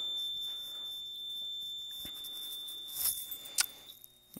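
A Simplex 4010 fire alarm panel sounds a thin, high, steady alarm tone throughout, faint in a quiet room, with a few brief clicks and key rattles near the end.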